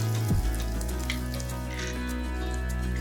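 A spoonful of asafoetida dropped into hot oil for a pickle of small amla gooseberries, a brief splash followed by a steady, close hiss of frying with a faint low hum beneath.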